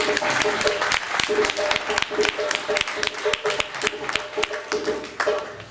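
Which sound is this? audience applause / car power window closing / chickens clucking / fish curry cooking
audience applause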